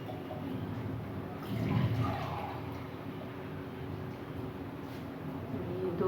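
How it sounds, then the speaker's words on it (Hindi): Beef stock (yakhni) being poured into a pot for Bannu beef pulao, a soft liquid rush swelling briefly in the middle over steady background hum. "तो हम इसमें जो यखनी है वो ऐड कर देंगे"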